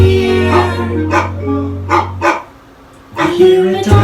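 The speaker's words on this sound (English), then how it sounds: "I hear a dog." A dog barks several times in short bursts over steady background tones, part of a nursery lesson on animal sounds.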